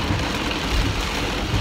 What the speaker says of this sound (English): It's raining hard as fuck, Bree.